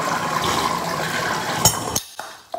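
Water gushes steadily from a bathtub tap in a five-star hotel bathroom, a loud broadband rush that cuts off abruptly near the end, leaving a few small knocks and splashes.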